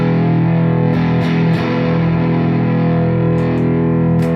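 A loud, heavily distorted chord from a Harley Benton Fusion guitar rings out through a cranked Killer Baby amp and Celestion Greenback speaker, sustaining thick and buzzing with a few faint pick scrapes.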